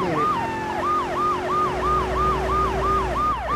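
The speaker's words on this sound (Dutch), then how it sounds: "En een paar sirenetjes aan en dan gaat het even." A police car siren in the video game GTA 3 wails in a steady repeating rise and fall, loud and continuous over a low engine hum, with no voices.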